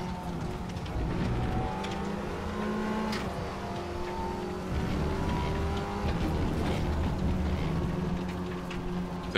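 A race car engine in the RaceRoom sim racing game drones continuously and loudly, its pitch rising and falling through shifts and throttle changes, with tyre and wind noise beneath and no talking.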